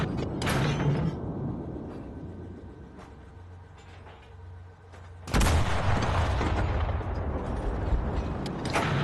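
Paired tank guns fire together in the video game Enlisted in a Burma setting, with a heavy booming blast followed by a long rumbling decay. A second loud crack and roar comes midway under continuous engine rumble.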